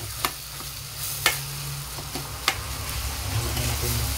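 Food sizzles and fries steadily in a pan as a little broth is poured in, with a few sharp scraping stirs of a utensil against the pan over the continuous sizzle.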